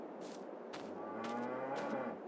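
Cows low at a pasture in the Farming Simulator 22 game, with several long overlapping moos in quick succession, loud and close, and no talking.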